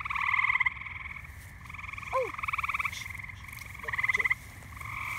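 A green frog calls near a pond at a catfishing spot, giving repeated rattling croaks in bursts, fairly close and clear over a low background hum.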